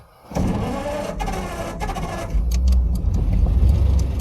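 A 1936 Ford 5 Window Coupe's flathead V8 engine cranks and catches, then settles into a loud, steady idle with a low rumble close by.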